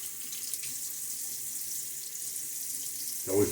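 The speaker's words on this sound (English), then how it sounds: "It's always important to rinse your razor." A water tap runs steadily at a sink while a shaving razor is rinsed, a soft continuous hiss heard from close by, with a small knock near the end.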